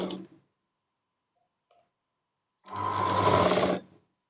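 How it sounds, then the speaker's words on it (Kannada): A sewing machine stitches a size 40/42 four-tuck blouse, running in one close, steady whirring burst of about a second after a short tap and a long pause. "ಈ ರೀತಿ ಇಟ್ಕೊಂಡು ನಾವು ಹೊಲ್ಕೊಳ್ಳೋಣ."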